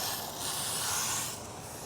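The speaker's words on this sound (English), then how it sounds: "Basically to spray the entire tire" A steady, close foaming hiss of a foamer spraying a tire and wheel well, running continuously, with no voices.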